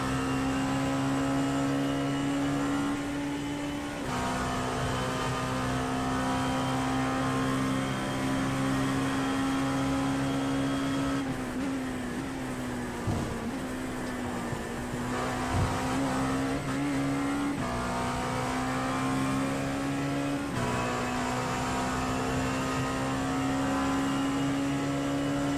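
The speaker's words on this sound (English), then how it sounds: "You hear the scream of that flat six." A Porsche 911 RSR flat-six engine screams at high revs during a 24-hour race at Daytona in iRacing, a loud, steady whine with gear shifts and brief dips as it runs on.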